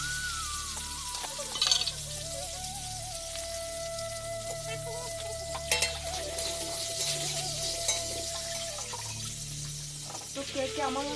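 Potatoes fry in a pan on a clay stove with a steady soft sizzle and occasional clinks, while a tonal whine and voices run faintly over it.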